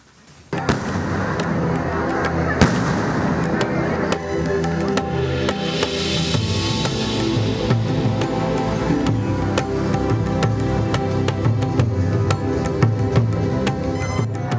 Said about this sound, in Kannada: ಸಿಡಿ ಮದ್ದಿನ ಅಬ್ಬರ